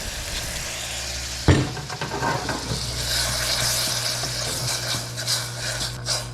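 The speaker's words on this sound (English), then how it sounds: "We're gonna deglaze with a little bit of white wine" White wine poured into a hot pan of browned fish, Almaco jack: a sudden loud hiss as the liquid hits, settling into steady bubbling sizzle with faint stirring, and no voices.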